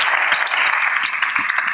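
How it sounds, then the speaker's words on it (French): Enthusiastic audience applause, a dense wash of many hands clapping loudly and continuously through the short moment, with no voices on top. "il faut encore applaudir plus fort"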